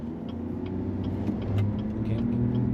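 A 3.0 Duramax pickup on a stock tune, fitted only with an aftermarket intake, pulls away from a stop with a steady, close diesel drone that builds gradually as it accelerates.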